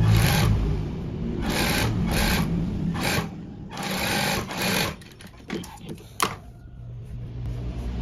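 Sewing machine stitching the hem at the bottom of a child's sleeve, its motor running in several steady bursts separated by short pauses, close and fairly loud, with fainter handling of the fabric between bursts.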